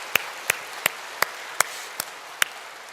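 A church congregation claps in steady, evenly spaced claps, about seven sharp hits over a few seconds, fairly close and crisp against a quiet background.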